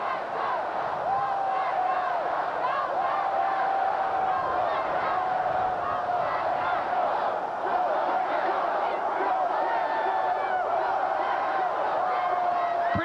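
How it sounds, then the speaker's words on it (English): Green Bay Packers fans packed at Lambeau Field chanting and roaring as a huge crowd, a steady, distant wall of voices with rhythmic chants rising and falling throughout. "Listen to the crowd behind us here at Lambeau"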